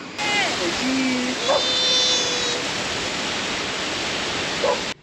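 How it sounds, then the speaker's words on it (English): A waterfall on Black Bear Pass in the mountains gives a steady, broad roar of rushing water that fills the whole clip, with brief tonal chirps and a faint voice over it. "we just went to go see the waterfall on Black Bear Pass"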